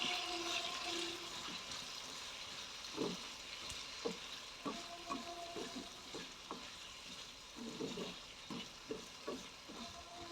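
A spoon scrapes and stirs spices in a frying pan for a Kerala mezhukkupuratti in short, irregular strokes over a soft, steady sizzle.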